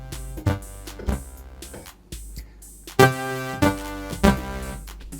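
Kurzweil K2500 synthesizer playing raw saw-wave notes with the low pass filter removed, a bright buzzy tone in a series of sustained chords and notes with distinct attacks, no voices.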